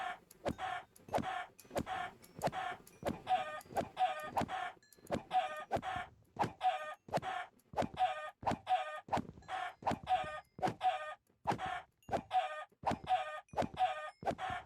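Minecraft chickens clucking in the video game, a steady run of short, bright clucks repeating rapidly and closely for the whole stretch with no talk.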